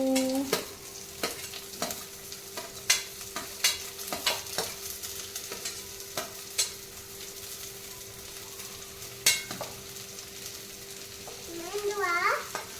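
Curry leaves fry in hot oil with a steady low sizzle, broken by scattered sharp stirring clicks and scrapes against the pan, while a voice speaks briefly at the start and end.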